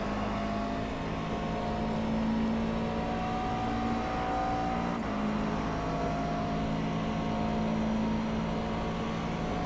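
A McLaren MP4 12C GT3 race car engine in the iRacing sim at Road Atlanta drones steadily and loudly throughout, its pitch dipping briefly around the midpoint before holding again.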